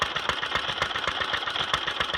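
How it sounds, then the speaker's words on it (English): A 1927 Detroit Moto Mower powered by a Briggs & Stratton Model PB engine, running with a fast, even chugging pulse, close and steady with no other sounds. "But a little tinkering with the engine, and it runs pretty good actually."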